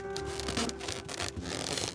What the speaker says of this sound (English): What is that horrible squeaking noise you're making?